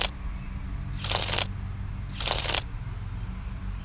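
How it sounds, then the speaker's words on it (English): Cards are shuffled twice in brief riffling bursts, each a bright papery flutter, with quiet pauses between them, close up. "And then I will shuffle again"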